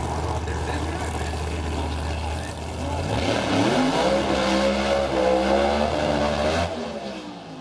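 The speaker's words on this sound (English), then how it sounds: "There was not a lot of throttle stop on that for Carboni. Sound like it zinged a bit at the end too." A drag racing car accelerates hard down the strip at a spring nationals event, its engine note climbing loud and near, then fading abruptly as it passes into the distance.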